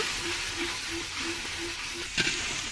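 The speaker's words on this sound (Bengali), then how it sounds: "এবার ভালো করে পেঁয়াজের সঙ্গে সব কিছু মিশিয়ে নিতে হবে ভালো করে নাড়িয়ে চাড়িয়ে মিশিয়ে নেব" Biryani spices and onions sizzling in a pan as they are stirred together, a steady hiss with soft regular scraping strokes and a brief louder clatter near the end; no talking.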